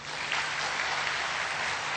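Steady, dense applause from an audience at a kavi sammelan poetry gathering in Mount Abu, a continuous wash of clapping filling the whole stretch without pause.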